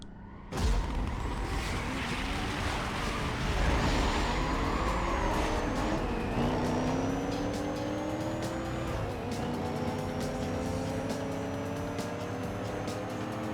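A Ford Mustang GT muscle car racing through a speed trap in a driving video game, with a loud, continuous engine roar that revs and shifts through gears, plus occasional tire squeal, heard close from the car.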